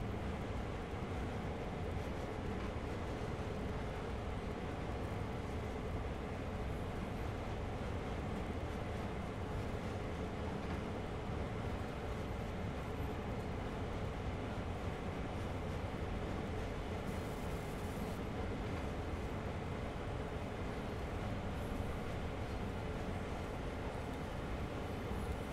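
Steady rumble of a freight train running on track in Train Sim World 2, a continuous even roar with low wheel and engine noise and no talk, during flat switching with seven or eight cars.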